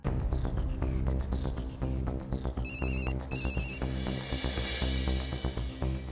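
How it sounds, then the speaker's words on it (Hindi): A phone ringtone plays loudly and continuously, a repeating electronic melody with a steady rhythmic beat and no talking. "तब तक पिंकू को कॉल करता हूँ।"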